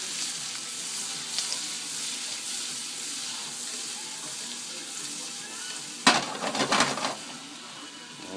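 Garlic shrimp simmers and sizzles in a pan with a steady low hiss, then a louder burst of crackling and splashing erupts midway before settling back.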